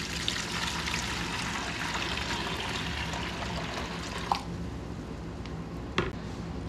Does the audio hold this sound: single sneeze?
no